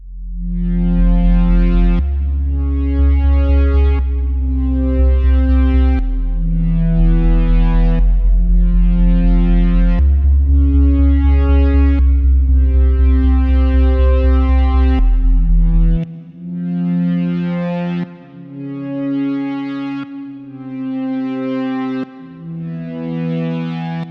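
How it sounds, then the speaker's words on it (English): A soft, sustained synthesizer pad made in Serum moves through slow chord changes, each lasting a couple of seconds, with warm low tones and a smooth electronic shimmer. "nice little background pad sound"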